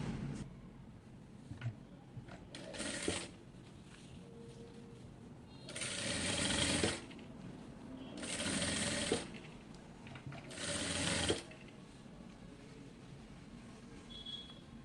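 A sewing machine stitches a folded zipper edge on a frock or kameez in three bursts of a few seconds each, with quiet handling noises between runs.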